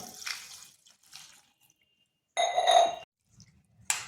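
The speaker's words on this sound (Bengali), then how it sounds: "এরপর এখানে দিয়ে দিচ্ছি জল" Water is poured over fresh drumstick flowers for washing, with quiet splashing and trickling that comes in short bursts and ends with one stronger gush.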